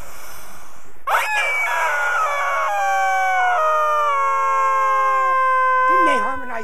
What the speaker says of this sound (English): you get to squeeze the screaming rubber chickens